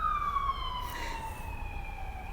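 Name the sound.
emergency vehicle siren passing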